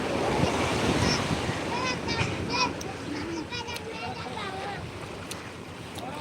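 Sea waves wash steadily onto Old Digha beach at midday, with gusty wind buffeting the microphone and voices talking over the surf.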